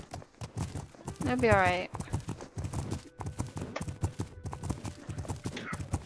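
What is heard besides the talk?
horse hooves clip-clopping in the video game The Legend of Khiimori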